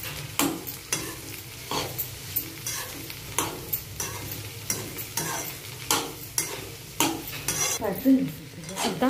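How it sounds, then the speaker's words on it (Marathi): Cut okra and browned onion sizzle and fry in a pan while a utensil stirs and scrapes, with repeated clinks and scrapes over a steady close frying hiss and no talk. "आता भेंडी थोडी परतून घ्यायची आहे।"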